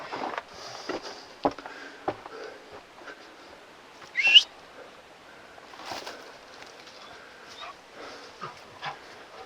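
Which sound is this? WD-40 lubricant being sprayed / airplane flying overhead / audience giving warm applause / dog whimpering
dog whimpering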